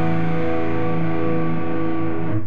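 Electric guitar with distortion and effects plays the first part of an A bitonal pendulum lick, dense sustained tones ringing steadily for a couple of seconds and then cutting off, alone and up close.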